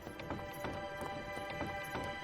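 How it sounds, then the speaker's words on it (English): Horses pull a wagon along a road, their hooves clip-clopping in a steady, even rhythm at a moderate distance, fairly soft against a quiet background. "the horses obediently began to pull their burden along the road"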